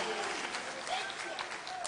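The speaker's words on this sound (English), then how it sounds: "a better round of applause for the soon-to-be Her Excellency, the Vice President of the Republic of Ghana, Prof. Nana Jane Opoku-Agyemang." An audience applauds at a political rally in Ghana introducing a vice-presidential running mate, a dense, continuous wash of clapping from a large crowd throughout the short moment.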